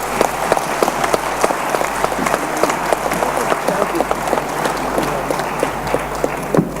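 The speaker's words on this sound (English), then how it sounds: "I'd ask you to please give Mr. Athawari one more round of applause" An audience at a justice-system conference session gives a speaker a sustained round of applause, steady dense clapping with sharp individual claps standing out throughout.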